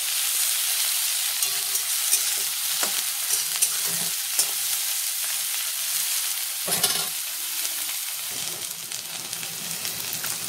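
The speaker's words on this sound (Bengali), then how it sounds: "এবার আমি এই বেগুনটাকে ভেজে তুলে রাখবো।" Eggplant (brinjal) frying in oil in a wok, a loud, continuous hissing sizzle with occasional stirring scrapes and soft clunks throughout, with no voices.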